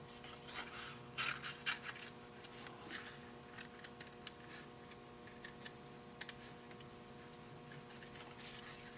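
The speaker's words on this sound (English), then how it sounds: "now I'm gonna cut around that with my scissors" Quiet rasping snips of scissors cutting through thick material, a few crisp cuts early on, over steady low machine hum.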